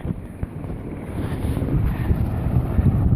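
A solar-powered box fan runs on battery power, pushing air with a steady broadband whoosh that swells slightly over a few seconds, close to the microphone with no talking.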